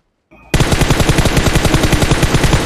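Automatic gunfire in the mobile battle royale game PUBG Mobile, a loud rapid burst of rattling shots that starts abruptly after a brief faint tone and continues in an even, fast rhythm up close.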